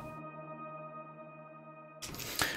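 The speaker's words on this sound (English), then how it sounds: "So speaking of main lead sounds, we have this riff bell." A synth bell lead for a minimal drum and bass track, shaped by effect units, rings as a sustained bright tone with steady harmonics, followed by a sudden burst of noisy, percussive sound near the end; moderately quiet, no talking.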